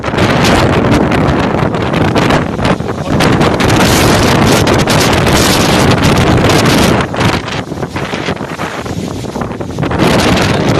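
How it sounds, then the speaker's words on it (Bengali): A strong storm wind gusts through trees, a loud, unbroken roar and buffeting that sweeps on and on with no voices, only brief dips in force. "আমাদের এখানে তো প্রচুর হাওয়া দিচ্ছে, গাছপালাগুলো এলোমেলো হয়ে যাচ্ছে।"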